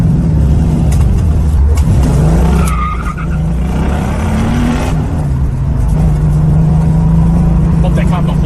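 A classic muscle car drives through traffic, its engine giving a steady low rumble that swells briefly into a rev, with tire and road noise mixed in and someone talking over it.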